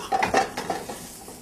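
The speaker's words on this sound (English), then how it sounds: "we're going to add our peas and our cauliflower to our sweated onions" Peas and cauliflower being stirred into sweated onions, ginger and garlic in a pan, with a few quick scraping, clinking utensil strokes close by and a faint sizzle underneath.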